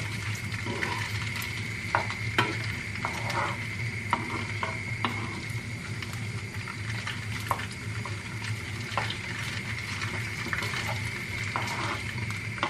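Sausages sizzle steadily in a frying pan on the stove while a utensil stirs them, producing a constant close hiss punctuated by occasional scraping clicks.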